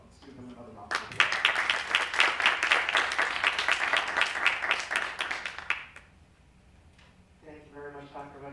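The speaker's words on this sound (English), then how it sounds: "Let's give them another round of applause." An audience in a school theater applauds retirees at a school board meeting, a burst of clapping lasting about five seconds before fading, with a voice speaking before and after.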